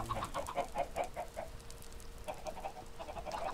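Chickens clucking in a barn kept for eggs, a run of quick, close clucks in rhythmic bursts, a short lull, then more clucking toward the end.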